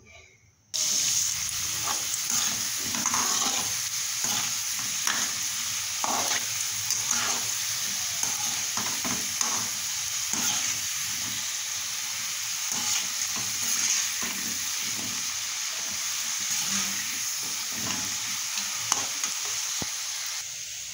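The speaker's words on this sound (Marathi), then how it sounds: "इथे मस्त असे मोदक केलेले आहेत बघा, आणि आता ते तळून घ्यायचे आहेत." Modak dumplings deep-frying in hot oil, a loud, dense, unbroken bubbling sizzle that keeps a steady level from start to finish, with faint stirring movements in it.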